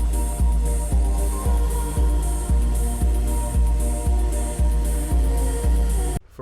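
A track plays, with a steady electronic beat of heavy, evenly spaced low thumps under sustained tonal layers. It cuts off abruptly near the end.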